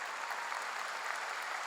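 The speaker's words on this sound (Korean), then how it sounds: "하나님께 박수 칩시다." A church congregation applauds at a revival service, steady dense clapping filling the whole moment at a moderate, even level with no voices over it.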